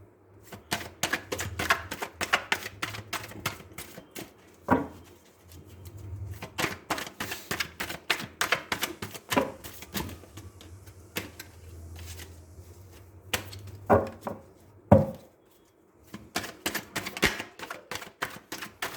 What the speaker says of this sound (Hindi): चलिए हम आप ही के सामने कार्ड्स को शफल करेंगे